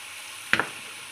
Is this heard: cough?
no